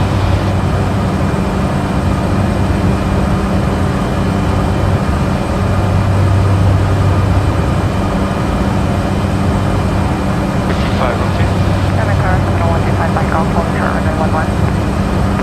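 Airplane engine drones steadily throughout a touch and go in Microsoft Flight Simulator 2020, a constant loud hum with radio-style talk layered over it.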